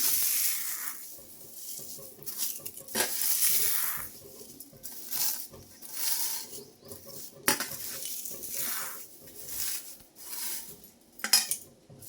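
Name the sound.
neem leaves dry-roasting crisply in a dry pan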